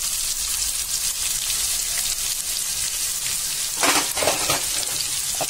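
Onions hit hot oil with fenugreek and garlic in a pan, a bright steady sizzle throughout that swells briefly as they are stirred in near the end.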